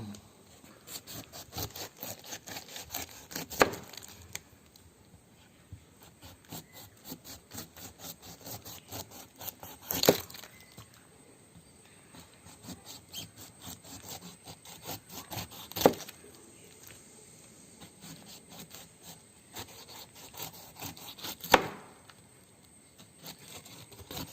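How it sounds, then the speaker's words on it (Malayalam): A knife cuts the peel off a pineapple in a quiet kitchen with soft, rapid slicing and scraping strokes, broken every few seconds by a sharper thunk. "ഇതൊക്കെ ഒന്ന് കട്ട് ചെയ്ത് മാറ്റിയിട്ട് നമുക്ക് ഇതിൻ്റെ ഈ 4 ഭാഗവും തോലൊക്കെ ഒന്ന് കളയണം."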